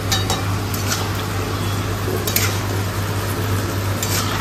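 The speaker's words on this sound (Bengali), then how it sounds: "মাংসটা আরেকটু ভাজা ভাজা হবে" Meat frying in a pan, giving a steady dense sizzle with occasional stirring scrapes and clinks, close and continuous with a low hum underneath.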